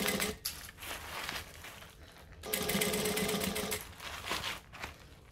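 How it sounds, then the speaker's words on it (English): A sewing machine stitches a half-inch seam around the top edge of a fabric project, running in steady bursts with brief pauses between, loud and close with no talking over it. "So now I'm just going to stitch 1/2 inch around the top edge."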